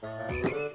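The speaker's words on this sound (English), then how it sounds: "Listen to that frog croak." A cartoon frog gives one short, throaty croak up close, with a single spoken word just before it.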